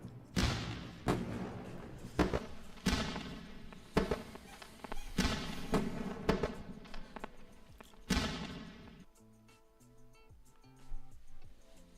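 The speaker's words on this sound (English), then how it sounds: "Let's go with the fireworks." A fireworks sound effect plays as a series of sharp bangs and crackling bursts about every second, loud and close, fading to sparse ticking near the end.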